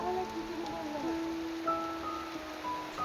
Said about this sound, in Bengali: পুকুরের উপরে বৃষ্টির জলের ফোঁটা না দেখতে খুব ভালো লাগে।